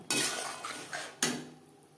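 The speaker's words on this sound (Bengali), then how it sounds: "মশলার সাথে বেগুন বেশ ভালো করে মিক্সড করে দেওয়ার পর" A spoon scrapes and clinks through eggplant pieces and fried spices in a cooking pan for a fish curry with vegetables, in three close, distinct stirring strokes that each fade quickly.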